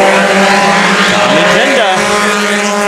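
Mini stock race cars roar together on a speedway restart under the green flag, a dense, loud engine drone with rising pitch sweeps as they accelerate, tires faintly squealing.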